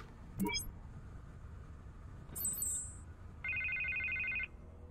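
In Batman: The Telltale Series, a phone rings with a steady electronic trill that holds for about a second near the end. Brief beeps and rising tones come before it over a low ambient hum, and no one speaks.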